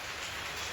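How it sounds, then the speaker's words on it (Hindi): Steady rain falling outside a home during an April downpour, a dense, even hiss with no breaks, heard fairly faintly and without any voices over it. "और बारिश पड़ रही है, देखिए बैक कैमरा।"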